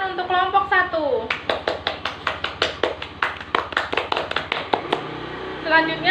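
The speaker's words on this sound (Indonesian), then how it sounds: "Beri tepuk tangan untuk kelompok 1." A classroom group claps for the first team after its presentation, a brisk burst of rhythmic applause with a speaking voice just before it and another at the end.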